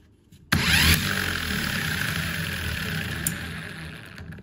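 A 12V car impact wrench kicks on abruptly and runs with a loud, steady motor whine and buzzing hum, holding nearly constant before easing slightly toward the end; no talking.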